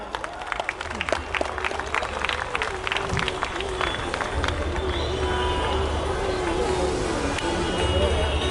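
Audience applause at the inauguration of the 16th Bengaluru International Film Festival 2025, a dense wash of clapping from a large crowd that swells and holds steadily throughout, with a voice briefly heard at the start.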